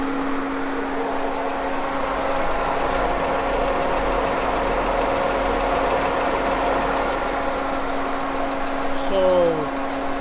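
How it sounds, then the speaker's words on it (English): Idling vehicle engine with a ticking from cylinder 2, a steady close rumble with a continuous hum throughout. "I think that's cylinder 2 ticking"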